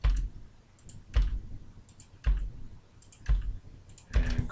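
Mouse clicks while selecting surfaces in Rhino: about five sharp, isolated clicks spaced roughly a second apart, close and clear, with a quiet room in between.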